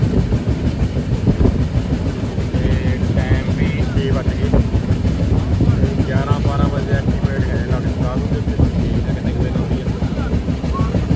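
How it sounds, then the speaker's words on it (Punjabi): Steady rumble and rattle of a train rolling along the tracks from Punjab toward Hazur Sahib, with voices talking over the noise throughout. "ਟ੍ਰੇਨ ਆਪਣੀ ਚੱਲ ਪਈ"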